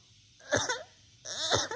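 Two rough, throaty coughs a moment apart, fairly close and loud, with a short silence between them.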